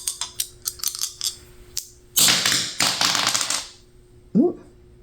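Dice are rolled indoors, several quick hard taps and clatters tumbling, then louder bursts of rattling as they roll and settle; no talking over it.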